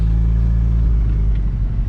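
Mitsubishi Galant VR-4 engine idling steadily right after a new starter was fitted, a close, continuous low rumble with no talk over it.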